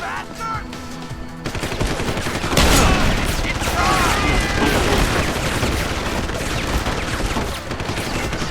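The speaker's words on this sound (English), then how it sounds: "Somebody's shooting through the wall?" Rapid automatic gunfire from the video game Deus Ex: Human Revolution bursts in dense, loud volleys after a quieter opening, continuing almost without pause to the end.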